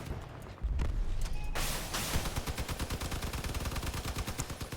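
Weapons fire in the vehicle combat game Crossout, with a rocket launcher in use: a loud rushing burst gives way to a fast, even rattle of repeated shots that keeps going to the end.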